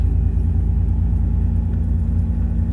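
A Ford tractor-trailer truck climbs a winding, wintry village road on torque, its engine holding a steady, deep, loud rumble from inside the cab with no shifts or revving.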